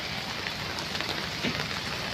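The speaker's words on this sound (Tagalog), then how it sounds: "Maghapon ng ulan" Steady heavy rain falls without pause on an island, a dense even wash of drops on surfaces, close and continuous with no talking.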